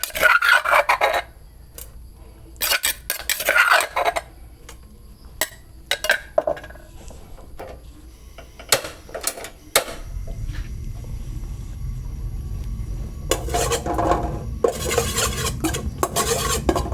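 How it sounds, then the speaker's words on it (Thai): Chili curry paste being dry-roasted in a pot, with a spoon scraping and stirring against the metal in repeated rasping strokes, then a steady sizzle rising underneath as the roasting continues. "เราต้องคั่วเครื่องแกงให้ ให้หอมก่อน"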